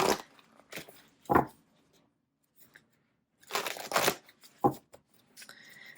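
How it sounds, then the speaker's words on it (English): Tarot cards being shuffled in short, crisp riffling bursts with quiet pauses between them, close by. "let's do a shuffle here, and let's get some more advice on this reading"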